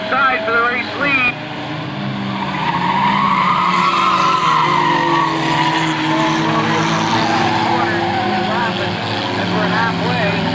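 Race cars circling a track in a 1998 event: a loud, continuous engine drone with rising and falling revs as cars pass, under an announcer's commentary over the public address.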